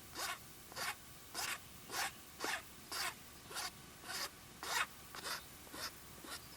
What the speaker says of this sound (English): we're going to start shaping this handle. Just start by cleaning it up.